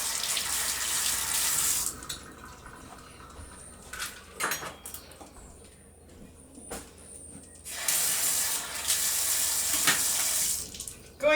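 Running tap water splashes over a carrot under a kitchen faucet, with two louder bursts of flow at the start and end and quieter trickling and handling sounds in between.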